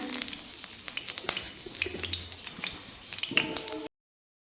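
Dried red chillies crackle and sputter in hot oil with quick popping bursts over a soft sizzle, close and fairly quiet, ending abruptly.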